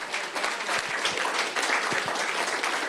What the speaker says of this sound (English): one more time, a round of applause for the dialogue, please